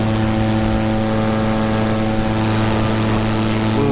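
An electric paramotor's propeller motor runs at full throttle, a steady loud droning whine with strong tonal hum that holds constant and close throughout.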